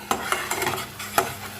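Sesame sautéed in a pan for a sesame paneer dish: a spoon or spatula knocks and scrapes against the pan in several quick strokes over a light sizzle.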